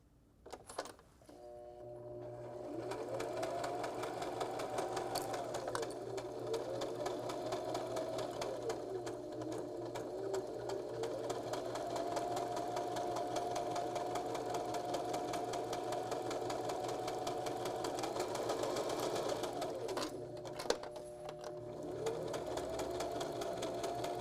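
A sewing machine stitches fabric for a small knot bag, running in a steady motor whir with rhythmic needle clatter, rising and easing in long passes with brief pauses, close and fairly quiet, no talk.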